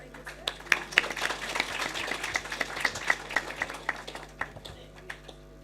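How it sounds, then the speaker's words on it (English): Audience applause for a professor receiving a token of appreciation at a conference keynote, fairly light, scattered claps with distinct individual hand strikes, moderately distant, over faint room hum. "Let's give a round of applause."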